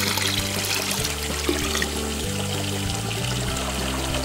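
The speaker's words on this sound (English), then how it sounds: "Let's add a little bit of cold water." Water pours steadily from the shower head of a toy bathtub for dolls, a continuous close splashing trickle with no talk.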